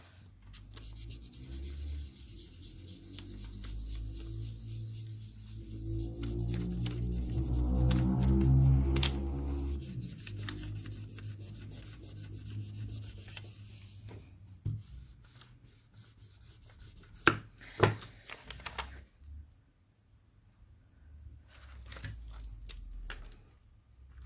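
Gentle rubbing smooths a groove in polymer clay with soft, continuous friction that swells and fades, followed by a few faint taps and clicks close by.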